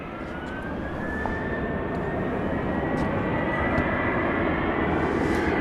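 Boeing 737-700 jet taking off at night from Dallas Love Field, a loud, continuous engine roar with a rising whine that swells slowly and holds steady throughout.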